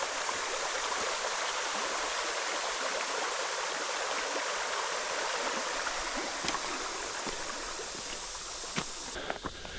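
A creek runs along a hiking trail, its broad steady rush of water filling the whole stretch at close range with constant even flow and a few small splashes near the end, no voices.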